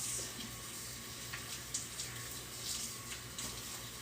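Tap water runs steadily into a sink while tie-dye shirts are rinsed, a close, continuous splashing hiss with small irregular splashes.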